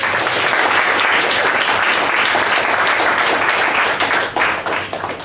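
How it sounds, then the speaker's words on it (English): Sustained applause from a crowd at a speaking club meeting, steady and loud throughout, tapering slightly near the end, with no talking over it. "A big round of applause for this young lady here."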